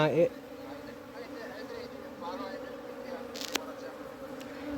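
A honeybee swarm being gathered from the ground into a hive box hums in a steady, close drone of many wings, continuous and even, with a brief sharp knock partway through.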